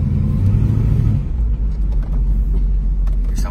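A car engine rumbles low and steady from inside the cabin while driving, with a brief higher drone at the start, loud and close with no talk.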